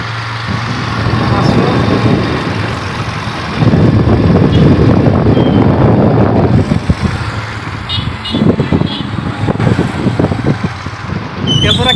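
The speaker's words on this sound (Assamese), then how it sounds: "বাইক লৈ গৈ আছোঁ আমি।" A motorbike ride along a village road: a steady engine drone mixed with rushing wind buffeting the microphone, with voices talking over it.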